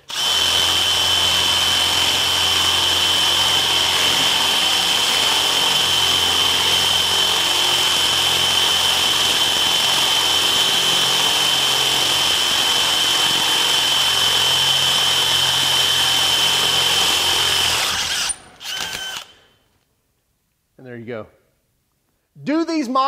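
A power drill bores through material with a Spyder Mach Blue Stinger bit, a loud steady whirring drone lasting most of the time before stopping, followed by brief quiet and short bursts of sound.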